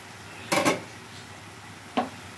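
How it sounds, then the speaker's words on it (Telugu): A lid is set onto a cooking pot with a quick pair of close metallic clanks, then one more brief clink a moment later in a quiet kitchen. "మూత పెట్టేద్దాం ఫ్రెండ్స్, మగ్గిన తర్వాత మళ్ళీ చూపిస్తాను."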